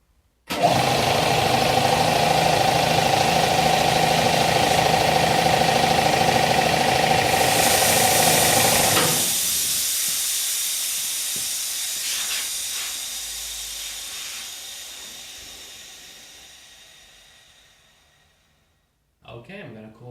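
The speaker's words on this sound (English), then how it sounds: "I have no idea if there's any leaks because of the noise of the compressor I can't hear anything." A freshly reassembled air compressor runs loud and steady as a harsh, broadband hiss of dumping air, which cuts off sharply into a softer, fading rush of venting air before a brief mechanical clatter at the very end.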